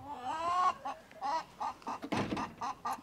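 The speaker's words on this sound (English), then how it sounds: "We've got a few chickens in there." Hens cluck inside a backyard nest box, a long drawn cackle followed by a run of short, evenly spaced clucks, close but fairly quiet.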